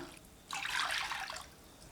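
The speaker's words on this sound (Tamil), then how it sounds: "ரெண்டு கப் அளவுக்கு தண்ணி விட்டுக்கலாம்" Water poured into kozhukattai rice-flour dough, a short splashing burst of about a second after a quiet start, close and moderately loud.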